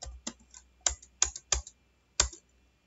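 Several quick clicks of computer keys as a pin code is entered, a short uneven run of about six close, crisp taps separated by small pauses, with no talking.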